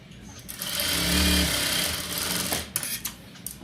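A sewing machine runs in a steady whirring burst while stitching fabric for a gathered top, rising and then easing off before a few clicks and bumps at the end.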